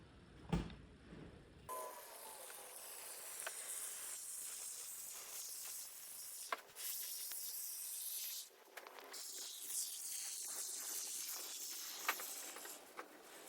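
Spray foam hisses out of a can's flattened nozzle as it is sprayed into the gaps around a newly installed European-style door, a steady loud hiss broken by brief pauses and short spurts.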